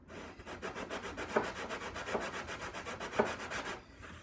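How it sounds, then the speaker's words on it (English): A large flat sander is worked by hand along an aircraft aileron hinge in a quick, even back-and-forth rhythm of soft rasping strokes, faint and close, with no talk. "I'll finish it up with a large flat sander to make sure we are"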